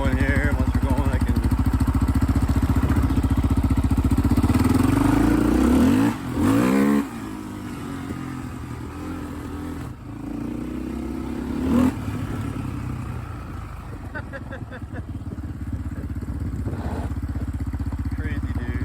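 A 2001 Yamaha Raptor 660R ATV engine revving and pulling away while being ridden, a loud continuous rumbling drone with rising and falling pitch sweeps as it shifts and accelerates, with a voice talking over it.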